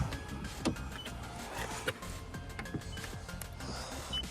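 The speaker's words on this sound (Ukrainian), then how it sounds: "підемо по черзі вікно" The electric power window motor of a Volvo V60 whirs steadily for a few seconds, with faint clicks and a low background hum around it.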